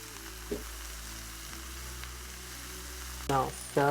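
Sauce hits a hot pan of chow mein and sets off loud sizzling and frying over a low hum, with sharp bursts of crackle near the end.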